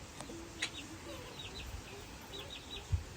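Soft, intermittent clucks from a fighting rooster over a steady outdoor background, faint and scattered rather than rhythmic.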